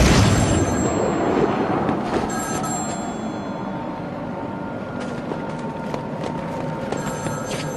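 Telephone ringing in the Batman Arkham City video game, a steady electronic ring over a loud, rumbling game ambience with no talk.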